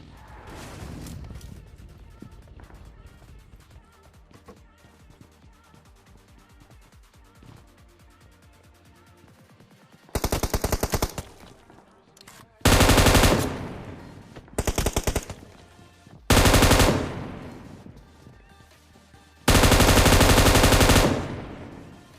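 Automatic gunfire in the PUBG video game rattles in several loud, dense bursts of rapid shots, separated by short gaps, over quieter in-game background sounds.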